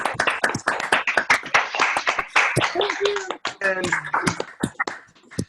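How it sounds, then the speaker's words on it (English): Scattered, uneven clapping from several people on a video call applauding Marty O'Donnell, mixed with cheering voices and laughter over the participants' open microphones. "let's unplug our mutes and applaud Marty O'Donnell"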